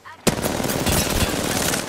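Sustained automatic gunfire in the battle royale game Apex Legends, a loud continuous burst that starts abruptly and hammers on steadily without a break.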